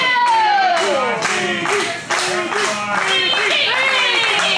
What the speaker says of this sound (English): And listen to this crowd getting behind Miggy Rose